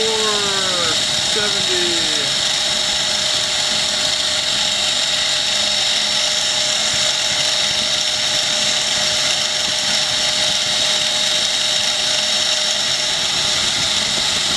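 A G0704 milling machine with a V-belt drive spins its quill at speed, giving a steady, loud, high motor whine with a constant tone throughout, preceded by a brief rising pitch at the start.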